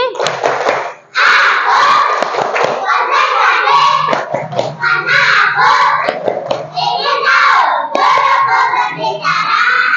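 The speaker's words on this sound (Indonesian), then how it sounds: "Tepuk konsentrasi" A class of children performs a rhythmic concentration clap, sharp patterned claps in unison with loud shouted group chanting, close and energetic, after a brief drop near the start.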